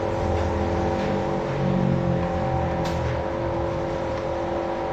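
Diesel engine of an Isuzu D-Max pickup with a smoke, fuel-consumption and sluggishness fault, idling steadily and close up with an even drone and slight rise in revs, no speech.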